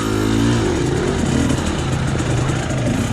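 A KTM TE250i two-stroke dirt bike engine lugging at low revs while crawling slowly over rocky terrain, a loud, steady, close buzzing putter that dips slightly early on and then holds.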